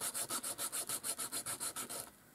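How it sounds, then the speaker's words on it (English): Quick rhythmic back-and-forth rubbing of sandpaper, about a dozen close, even strokes in a row before it stops. "neaten it up with your nail file or your sandpaper, your sanding block"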